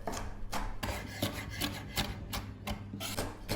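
Rapid rasping knife strokes cut through something crisp on a board, repeating steadily at close range with no talking.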